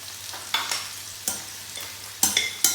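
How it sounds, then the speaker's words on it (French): Raw asparagus salad with spring onions, broccoli and salt being tossed and mixed in a bowl, giving several short scraping, rustling strokes in an irregular rhythm, close and fairly quiet, with no talking. "Donc là, on mélange vraiment bien notre petite salade crue."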